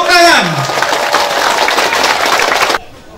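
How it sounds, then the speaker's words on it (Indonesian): A crowd at an Indonesian campaign rally breaks into applause, a dense burst of clapping that rises right after a voice's falling tone and runs for a few seconds before stopping sharply. "Bapak Hilman, tepuk tangan"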